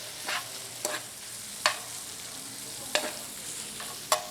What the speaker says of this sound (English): So you saute the onions, as you see they are sizzling.